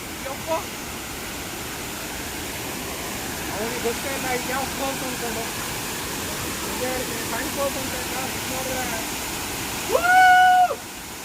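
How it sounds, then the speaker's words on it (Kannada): A heavy waterfall, Goyar Falls near Karwar, roars as a steady, dense rush throughout, with a brief louder tonal burst near the end. "ಜಬರ್ದಸ್ತ್ ಆಗಿದೆ ಫಾಲ್ಸ್ ಮಾತ್ರ. ಫಾಲ್ಸ್ ಹೆವಿ ಇದೆ."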